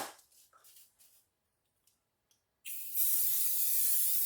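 A steady cooking-spray aerosol hiss onto a deep roasting tray starts abruptly after a quiet pause and continues loudly, following a few faint earlier sprays.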